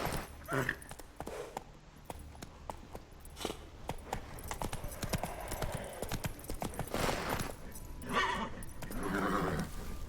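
Horse hooves clip-clopping at a riding pace, likely in a video game, a quick irregular run of hoof clops with a brief whinny-like sound and faint background noise.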